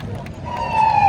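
Toy ambulance prop at a Six Flags Great Adventure Fright Fest, its electronic siren rising into a loud wailing tone for about a second right after a button press, with crowd noise behind.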